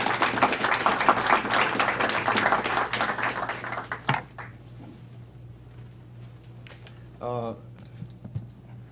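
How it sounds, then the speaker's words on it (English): An audience at an intelligence talk applauds to welcome a speaker, dense clapping for about four seconds that then fades, followed by a quiet room with scattered knocks and a brief voice. "please give a round of applause and help me welcome Tom Fingar."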